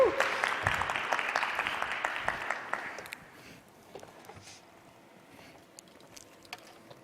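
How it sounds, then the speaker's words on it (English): Audience applause at a mixed-reality metaverse conference demo, loud clapping for about three seconds that then drops away to a quieter room with scattered sounds. "Round of applause for the pilot."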